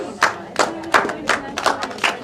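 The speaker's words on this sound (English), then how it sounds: "Give yourselves a round of applause." Scattered clapping from a small group at an informal gathering, about six separate bursts of claps in a loose, uneven rhythm, fairly close and moderately loud, with faint voices underneath.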